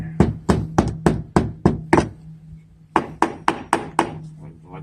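A hammer drives a board into a rotted wooden door frame with sharp, close knocks: eight quick, evenly spaced strikes, a brief pause, then another six or so blows, no talk over them.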